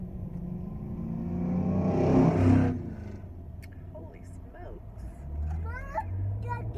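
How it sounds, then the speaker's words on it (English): An old truck rumbles past, its engine swelling to a loud peak and then fading, with voices speaking around it. "That was not a motorcycle. That was some old truck."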